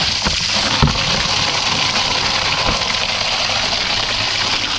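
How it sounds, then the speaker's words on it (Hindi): A submersible water pump runs near a tap, filling a tub with water: a steady, loud mechanical hum mixed with gushing, rushing water, continuous and close, with a couple of brief knocks. "नलके के पास देखिए समरसेबल हमने चला दिया।"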